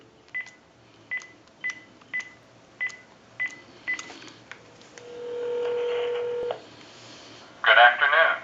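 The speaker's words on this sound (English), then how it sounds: "So we'll go ahead and give you some dial tone." A Panasonic KX-TG2357 cordless phone line sounds a string of about eight short, evenly spaced DTMF dialing beeps, then a steady tone, and after a brief pause a loud burst of ringback or connection sound, clear and close.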